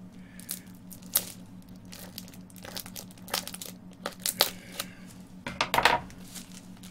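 Plastic and paper packaging crinkles, crackles and tears in uneven bursts while layers of a parcel are unwrapped, with occasional sharper snaps over a low steady hum.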